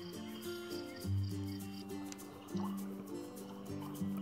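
A quiet baby crib toy plays its relaxing water-sounds setting, with a soft repeating melody over faint trickling and dripping, steady and low in volume.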